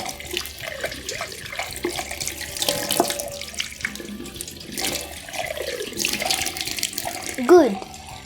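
Tap water runs steadily into a kitchen sink as a cooking stick is rinsed by hand, a close, continuous splashing with a brief voice near the end.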